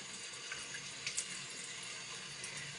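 Lukewarm tap water runs steadily into a bathroom sink during an evening face-washing skincare routine, a continuous close hiss and splash with no one talking.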